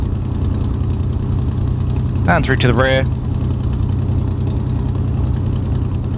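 A Messerschmitt BF-109G engine runs steadily in a flight simulator, a constant droning hum throughout with a brief burst of speech near the middle.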